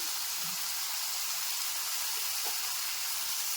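Grated carrot and turmeric fry in a pan with a steady, soft broadband sizzle that holds evenly throughout, quiet and without talk.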